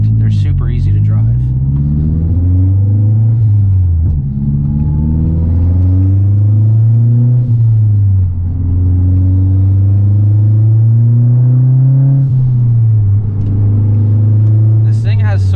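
A Mazda Speed 3 engine pulls hard on wet backroads, its loud droning note rising and falling through several acceleration runs and gear changes from inside the car, with tire and road noise beneath.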